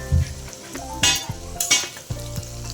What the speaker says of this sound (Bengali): তেলের মধ্যেই দিয়ে দিলাম। এবার এটাকে ভালো করে নেড়ে নিচ্ছি।